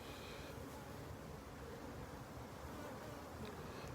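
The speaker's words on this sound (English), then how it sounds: "they're all got bees in the entrances coming out" Honey bees fly in and out of their hive entrances, making a steady, dense buzzing hum close by with no voices over it.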